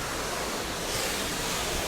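Ocean waves breaking in the Straits of Malacca, heard from the deck of a cruise ship, a continuous broad wash of surf mixed with wind rush, steady and fairly loud.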